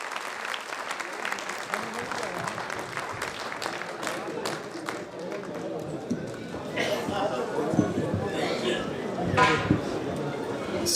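An audience at a Hindi poetry gathering claps to welcome a poet from Rajasthan, with dense, sustained applause that continues steadily, then thins toward the end as a voice speaks over it.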